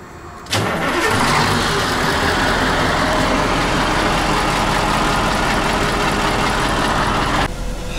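A car engine turns over and catches, then runs steadily at a loud, constant drone for several seconds, close by with no talking.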